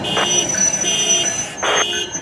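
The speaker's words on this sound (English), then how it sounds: "Someone's car alarm's going off" A car alarm goes off nearby during a Friday night ride on a GO train, giving a steady electronic tone with a harsher buzzing burst repeating about every second and a half, loud and alone.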